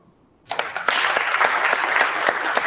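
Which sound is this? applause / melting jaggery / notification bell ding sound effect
applause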